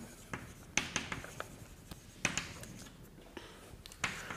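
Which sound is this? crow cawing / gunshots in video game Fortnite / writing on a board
writing on a board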